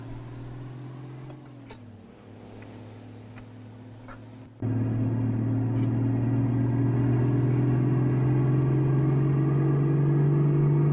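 Kenworth C500 V12 engine hauling a 150-ton mining roadtrain in the video game American Truck Simulator, a steady deep droning rumble that drops briefly, then surges louder and keeps climbing in pitch as the truck pulls hard.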